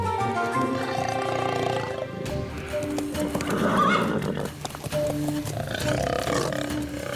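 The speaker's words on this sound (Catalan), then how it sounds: "Els cavalls." Horses in a Yakari cartoon scene about puma hunters, whinnying loudly over quick, busy clip-clop hoofbeats, with a dense, animated soundtrack throughout.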